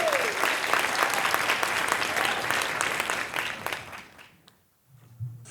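Audience applause for speakers at an audio summit, a dense, steady wash of many hands clapping close by for about four seconds before tapering off, followed by a short murmur.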